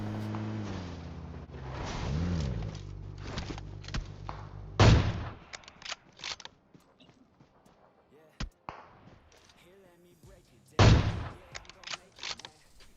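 Sniper rifles fire in a PUBG Mobile match: two loud, sharp reports several seconds apart, with smaller clicks and game ambience between them. Talk is heard near the start.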